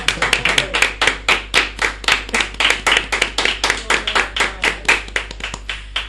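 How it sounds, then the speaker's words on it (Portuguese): Hands clapping in a steady, even rhythm of roughly three to four claps per second, close and loud, after a call for applause at a Portuguese-language English-course talk, with no voices over it. "As palmas,"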